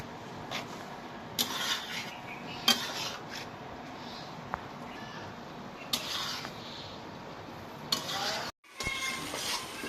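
Small fish and potatoes being fried and turned in a pan, with scattered scrapes and clinks of a utensil against the pan over a steady low frying hiss, several short bursts spread through the stretch.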